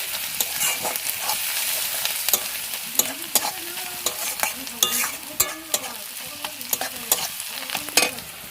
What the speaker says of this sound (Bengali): আর এখানে এই যে পেঁয়াজগুলো ভাজতে দিয়ে দিয়েছি, দেখো পেঁয়াজ ভাজা করছি